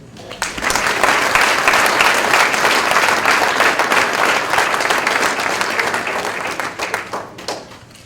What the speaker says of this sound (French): Alors, je vous demanderai de les applaudir.